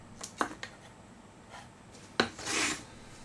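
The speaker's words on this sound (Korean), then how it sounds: "한 면도 평평하질 않으니까 대패치기도 힘들어요" Hand plane shaving a rough, uneven face of split firewood, with a few short scraping strokes followed by one longer rasping pass, close and fairly quiet with no talk.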